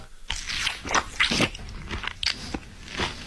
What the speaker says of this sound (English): the sound of someone chewing